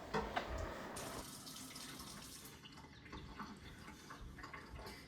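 Hands gently stirring and breaking up long cheese curds in warm whey, made from family milk cow milk, give a steady close sloshing and trickling of liquid with soft splashes, continuous throughout without talk.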